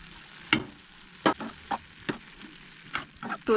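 Spoon stirring cabbage vegetable with potato in a pan for a Goan vegetarian meal, making sharp intermittent scraping clacks at an irregular pace, close and fairly quiet with a soft sizzle between them.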